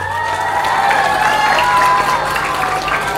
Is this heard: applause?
yes